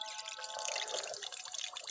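Fish pieces drop into hot ghee for frying and set off a dense, steady sizzle of bubbling oil. The crackle sounds close and fairly quiet, with no one talking over it.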